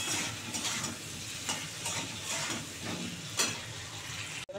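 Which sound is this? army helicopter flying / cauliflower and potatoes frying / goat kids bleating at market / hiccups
cauliflower and potatoes frying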